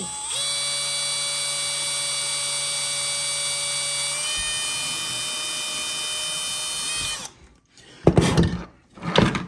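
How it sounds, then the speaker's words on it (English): A drill bores a hole through a workpiece held in a small homemade jig, a steady high whine that shifts pitch partway, cuts off, then gives a few short rough bursts. "And just drill 1 hole."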